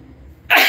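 A sudden, loud human sneeze bursts in close to the microphone after a brief quiet stretch, standing alone with no talk over it.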